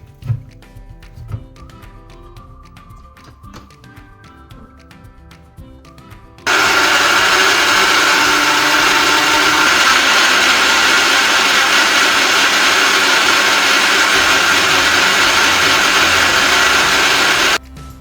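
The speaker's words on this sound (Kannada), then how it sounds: "ಕೊರಿಯಂಡರ್ನ ಕೂಡ ನೀಟಾಗಿ ತೊಳ್ಕೊಂಡ್ಬಿಟ್ಟು ರುಬ್ಕೊಳ್ಳೋಣ." A mixer grinder whirs loudly and continuously for about eleven seconds, blending washed coriander for pani puri, after a quieter stretch of faint kitchen clatter.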